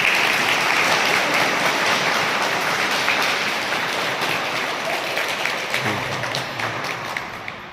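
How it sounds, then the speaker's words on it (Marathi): An audience claps steadily and loudly in applause to welcome a cook during a Buddhist religious group outing, the dense clapping sustained throughout and tapering slightly at the end. "आपण सर्वांनी टाळ्यांच्या गजरामध्ये काथार साहेबांचं स्वागत केलं"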